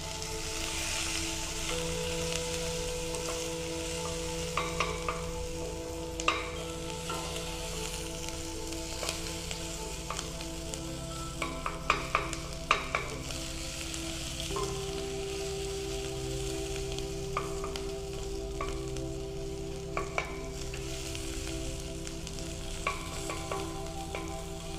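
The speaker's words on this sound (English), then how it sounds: "As you can see, the onions are starting to caramelize right now." Onions frying and caramelizing in a pan: a steady, close sizzle with occasional crackles and stirring scrapes, running without speech throughout.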